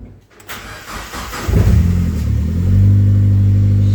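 A Mazda MX-5 drift car cranks over and fires up, the starter whirr giving way to a loud catch and brief rev before settling into a steady, close idle.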